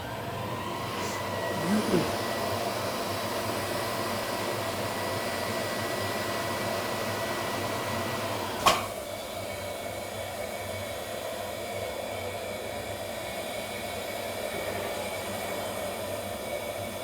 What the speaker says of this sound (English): And again, you can hear the sound of the vacuum system.